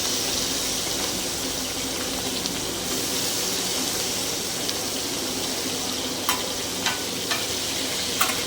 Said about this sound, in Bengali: গরম তেলে ইলিশ ভাজার শব্দ শুনেই